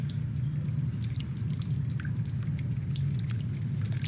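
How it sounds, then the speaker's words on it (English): Steady trickling water running through a small landform model, cutting a channel into the ground material; a continuous low wash with faint drips over it. "So as you can see, water is starting to carve through the geosphere, and it's making what I would say looks like a channel."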